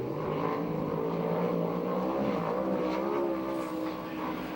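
A USAC/CRA sprint car lapping at Perris, its engine a loud continuous roar with shifting pitch as it works around the track.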